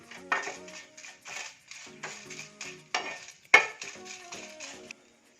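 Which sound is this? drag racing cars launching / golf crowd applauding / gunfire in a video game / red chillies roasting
red chillies roasting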